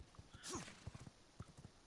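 Horse hooves clip-clop in the video game V Rising, a short run of light, irregular footfalls with a brief whinny-like swell near the start, fairly quiet and heard alone.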